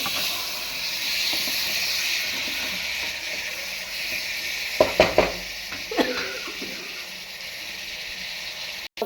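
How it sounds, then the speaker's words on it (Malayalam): Chopped tomatoes frying in a hot pan of oil give a steady, close hiss and sizzle throughout, with a few sharp clinks of a utensil against the pan midway. "തക്കാളി ഇട്ടു."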